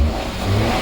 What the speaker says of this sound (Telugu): సౌండ్ కూడా చూపిస్తుంది, ఇంజన్ సౌండ్.